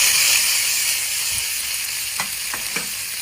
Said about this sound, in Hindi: घी हमारा गर्म हो चुका है, अभी इसमें हम ऐड करेंगे टमाटर।